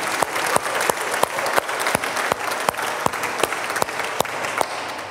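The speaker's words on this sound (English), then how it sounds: "So little applause at this point," A demo day audience claps for a startup accelerator team, a steady, fairly close round of applause with distinct, regularly spaced louder claps running throughout.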